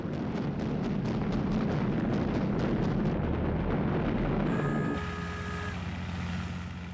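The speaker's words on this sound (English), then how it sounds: "the Japanese carriers were attacked by US bombers" Bombs from US bombers burst around Japanese carriers in a World War II attack, heard as a rapid series of sharp crashes over a roaring low rumble, then fading into a droning engine hum with a steady tone.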